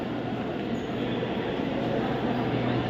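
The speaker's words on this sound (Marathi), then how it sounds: "लागली आहे ट्रेन." A Kasara-bound suburban train stands at a station platform, giving off a steady, unbroken low rumble and hum for the whole stretch, with no voices on top.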